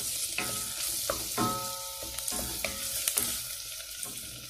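Tomatoes sizzle and fry in a pot as they are stirred, a steady close hiss of frying with occasional scrapes and clinks of the spoon against the pot, and no voices.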